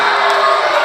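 A basketball crowd in a high school gym roars and shouts continuously, a dense wall of voices demanding a technical foul.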